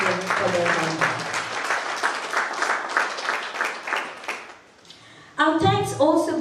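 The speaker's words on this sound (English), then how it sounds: "A round of applause for both of them for their help." Applause rings out in a hall at a school clinic launch at Merebank Secondary School, a steady patter of clapping lasting several seconds before it fades and a speaker resumes talking.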